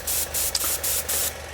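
Airbrush spraying out thinner during cleaning: four short bursts of sharp, loud hissing spray in a quick rhythm, with brief gaps between them.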